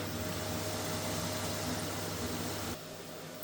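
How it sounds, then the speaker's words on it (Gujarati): Chips fry in hot oil for children, a dense, steady, close hiss of bubbling that cuts off abruptly near the end, leaving a fainter background noise. "આમાં નાના છોકરા માટે કરીને ચિપ્સ તળાય છે,"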